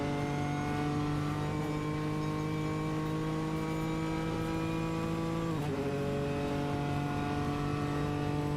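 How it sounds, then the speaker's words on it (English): A race car on the Mulsanne Straight at Le Mans in a racing video game holds a steady, loud engine note under full power, its pitch climbing evenly with one brief dip partway before rising again. "Able to get on the power nice and smoothly there, Oswyne Wilson, as he goes down Mulsanne Straight."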